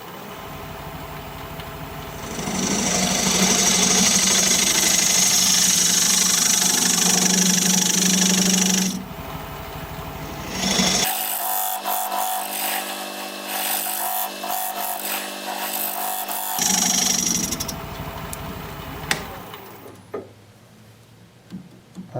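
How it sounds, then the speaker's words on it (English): A wood lathe turns a piece of fog wood while a dovetail tool shapes its outer edge, giving a loud scraping, hissing cut that starts, stops and resumes in several bursts with brief quieter gaps between them. "Now I'm going to use my dovetail tool, put a dovetail on the outside edge of that."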